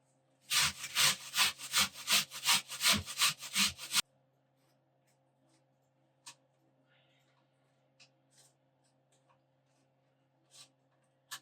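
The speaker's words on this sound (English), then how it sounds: "we finished grating the potatoes and onions" Potatoes and onions rubbed against a grater over a bowl for latkes, a fast rhythmic series of about a dozen loud close rasping strokes, then stopping into near silence with a few faint clicks.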